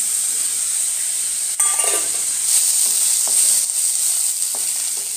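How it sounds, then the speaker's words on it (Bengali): Spice masala frying in oil in a pan for a Maharashtrian coriander-leaf kofta curry, a steady bright hiss of sizzling oil with occasional spoon scrapes and clinks, close and without talk. "যতক্ষণ না তেল ছাড়ে মশলাটাকে ভালোভাবে কষাতে হবে।"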